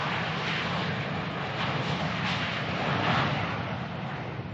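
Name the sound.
airplane flying, cargo aircraft sound effect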